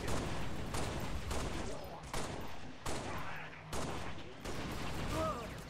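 Hostile gunfire pours in during a Halo: Reach Recon mission, a dense, steady barrage of shots with a few sharper bursts standing out, while speech is faintly mixed in.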